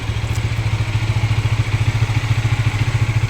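A 400cc Kawasaki motorcycle engine idles nearby with a loud, steady, pulsing chug. Its even rhythm continues throughout, and no voices are heard.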